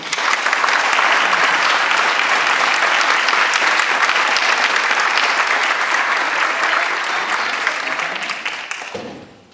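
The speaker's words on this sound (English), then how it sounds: "how about a round of applause for our All-County winter sport athletes" Sustained, loud applause from a school board meeting audience honoring All-County winter sport athletes, steady clapping throughout that fades out at the end.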